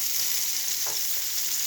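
A spice paste of turmeric, chilli and coriander powder sautés in a pan for a fish curry, giving a steady close sizzle with a soft stirring scrape midway, no voices.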